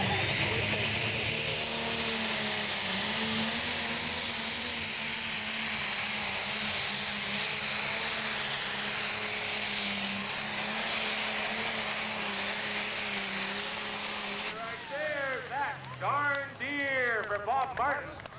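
Pro stock pulling tractor roaring through its run at a tractor pull in Mercer, PA, a loud sustained engine drone heard from the stands that fades near the end as an announcer talks over it.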